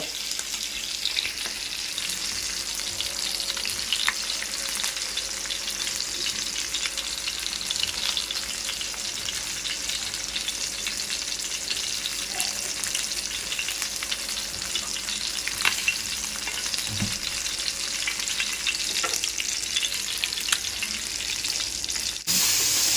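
Fish pieces fry in a pan for a long stretch, giving a loud, unbroken crackling sizzle that holds steady, with occasional faint clinks and stirring noises.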